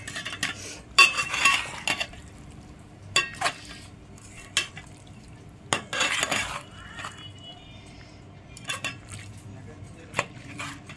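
A spoon stirs Ragandi fish curry mixture in a pot, making intermittent scrapes and sharp clinks against the metal. Taps come in irregular bursts over a quiet background, close and fairly loud, with no speech.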